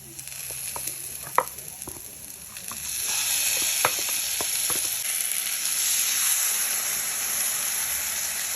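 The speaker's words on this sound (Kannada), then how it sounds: "ಚೆನ್ನಾಗಿ ಕುದೀತಾ ಇದೆ" Agalakai (spiny gourd) gojju gravy bubbling and sizzling in a pan, a continuous crackling simmer with occasional clicks and scrapes of stirring close by.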